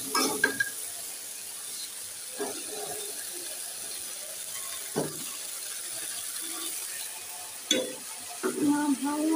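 Prawn curry cooking in a pan, with soft sizzling and intermittent scraping clinks of a spoon stirring against the pan at a few-second intervals, fairly quiet and close.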